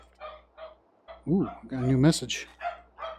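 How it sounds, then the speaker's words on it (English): Dog barks in a virtual reality shooting game, with voiced bark bursts near the middle of the clip between bits of nearby speech. "The dog is barking."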